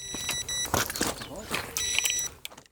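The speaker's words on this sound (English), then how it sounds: "You're getting a lot of beeps, aren't you?" An electronic carp fishing bite alarm on a rod at a Todber Manor fishing match sounds two short bursts of rapid high beeps, close by, with faint outdoor rustling in between.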